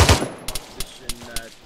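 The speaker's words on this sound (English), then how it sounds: "Yeah, they're firing at us, engage." Gunfire crackles during a military firefight with a patrol, several sharp separate shots spaced irregularly, some close and punchy, with a loud burst at the start.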